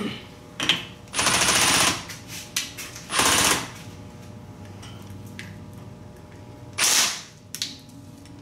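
An impact wrench spins out the ring gear bolts on a Jeep's Dana 30 differential in three short loud rattling bursts separated by quiet gaps, close by.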